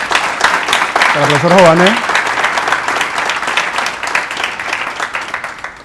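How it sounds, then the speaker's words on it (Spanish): Applause for Professor Jované at the close of a University of Panama discussion program, a dense crowd clapping steadily for about six seconds while someone speaks briefly over the start. "Quiero pedirle un fuerte aplauso al profesor"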